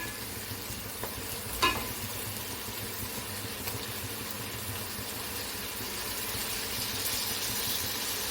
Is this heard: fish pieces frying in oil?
yes